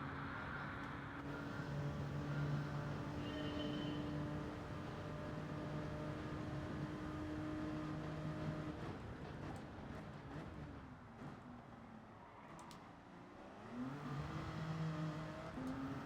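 A race car in Gran Turismo 7 drones steadily, then its engine pitch dips and climbs again as it accelerates hard, sustained and moderately loud with no talk.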